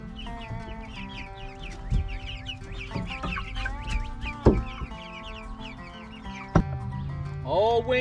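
Australorp chickens cluck and murmur close by in a busy backyard flock, with overlapping soft clucks, a few louder squawks and some rustling, with no talk.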